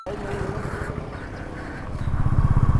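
A motorcycle engine runs steadily while the bike is ridden with a Fego Float air seat fitted, giving a low rumble with wind noise that grows louder toward the end; faint voices may sit under it.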